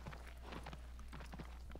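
Horse hooves clip-clop in a steady, rhythmic trot in the video game Shadow of the Colossus, faint and evenly spaced over a low constant hum, with no talk.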